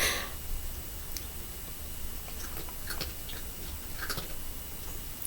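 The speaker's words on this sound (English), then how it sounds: "I don't know if you can hear the crunching. That's my kitten. She's eating her brunch." A kitten crunching dry cat food, faint scattered crisp bites and clicks over a steady background hiss, close but quiet.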